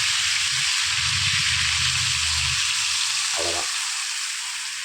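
A palak and egg gravy, with boiling water added, sizzles and bubbles in a pan with a loud, continuous hiss, while low-pitched stirring or bubbling sounds come and go underneath.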